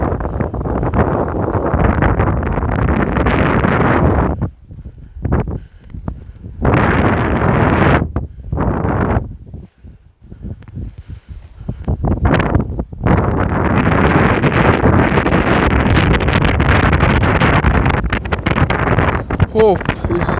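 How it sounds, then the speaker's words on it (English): Strong wind buffeting the microphone at a lakeside campsite at Särna by the Österdalälven, roaring in loud, sustained gusts with brief lulls between them. "It's too windy."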